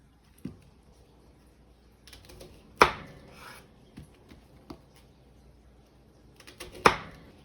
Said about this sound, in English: I'm gonna just cut these Brussels sprouts just like that.